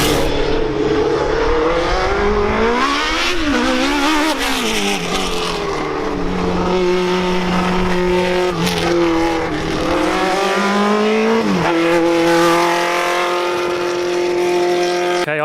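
Racing karts at a charity kart race blast past with high-pitched engine whines that climb and fall in pitch through the gears, loud and continuous, with overlapping motors and no talking.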